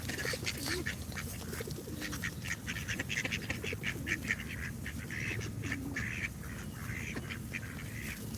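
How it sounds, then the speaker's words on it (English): Ducks and geese quack and honk in a steady, overlapping chorus close by, the calls continuing throughout without pause and no talking heard over them. "Hi, Quack. And goosies"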